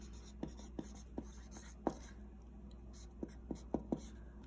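Energetic marks drawn on paper, a series of quick, faint scratching strokes spaced irregularly, about eight in all, close and quiet with no talking.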